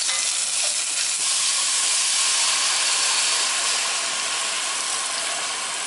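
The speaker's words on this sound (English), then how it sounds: "Stir fry this paste." Curry paste stir-fries in a hot pan with a dense, even hiss of sizzling that holds steady and close throughout, with no voices.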